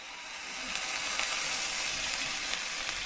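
Food sizzles loudly in a hot pan just after water is poured in, a dense, steady hiss with a few stirring clicks and no talking.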